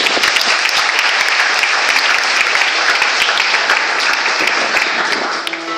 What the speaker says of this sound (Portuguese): Podeis assentar aplaudindo ao Senhor.